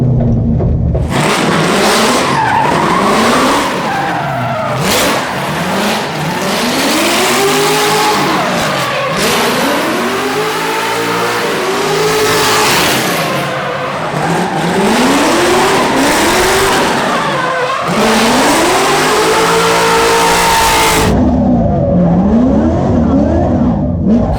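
A Pro-Am drift car screams through a run, its engine revving hard in repeated rising and falling sweeps while tires squeal and skid, loud and close for the whole stretch before the noise cuts off near the end.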